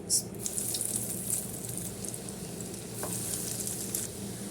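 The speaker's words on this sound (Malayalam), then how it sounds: "എണ്ണ ചൂടായി വന്നിട്ടുണ്ട് നമുക്ക് ഓരോന്ന് ഇട്ട് കൊടുക്കാം" Potato snacks frying in hot oil in a pan, a steady loud sizzle with a few clinks of utensils and faint background voices.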